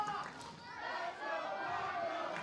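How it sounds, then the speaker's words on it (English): Fans in a high school gym at a pro wrestling show chant and cheer together, a rhythmic swell of crowd voices that dips briefly and then surges again. "The audience, the crowd, the fans here at Cypress High School chanting"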